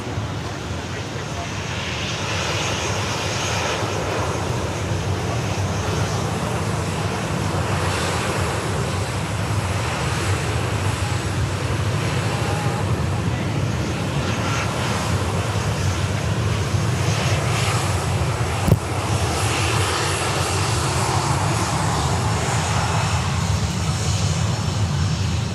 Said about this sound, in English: We've got the LATAM 789er.